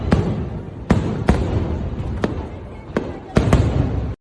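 Fireworks bursting outdoors on New Year, several sharp loud cracks at irregular intervals over a dense rumbling, crackling background.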